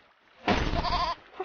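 A goat in the video game There is No Game lets out a single loud bleat lasting about two-thirds of a second, wavering and close, followed by a faint short trailing sound.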